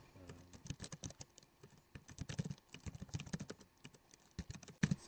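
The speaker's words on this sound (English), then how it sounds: "as I type in codes in here" Computer keyboard keys tapped in a quick, irregular rhythm of close, soft clicks while commands are entered at a command line, with no voices.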